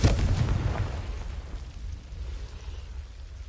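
A Confringo fire spell blast in the Hogwarts Legacy video game, one loud booming explosion at the start that rumbles and fades into a low lingering roar.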